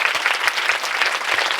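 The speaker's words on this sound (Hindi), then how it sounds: "ताली बजाएंगे जोरदार।" Church congregation clapping loudly during a sermon, a dense, continuous wash of many hands filling the room from start to finish.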